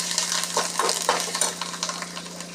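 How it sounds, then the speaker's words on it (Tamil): Sambar with asafoetida being stirred in a pot, a spoon scraping and clinking in steady bursts over a constant low hum, close and moderately loud, with no voices. "இதை அப்படி ஒரு கிளறி விட்டுட்டு இறக்கிடுங்க"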